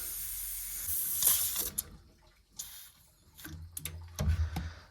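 Air and water spit and hiss from a radiator bleed valve, with short bursts of spraying and gurgling separated by brief pauses and a few clicks of handling, close by.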